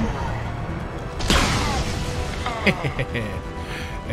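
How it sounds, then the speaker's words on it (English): A loud explosion in Mass Effect 2 bursts out amid busy game noise, followed by a scatter of crashing debris and smaller bangs. "Explosion!"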